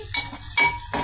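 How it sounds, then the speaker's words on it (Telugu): Tempering spices with onion pieces and fenugreek seeds fry in hot oil for a lentil rasam, giving a steady close sizzle with a few louder bursts as the pan is stirred. "పోపు మసాలా ఈ విధంగా ఫ్రై అవుతుందండి."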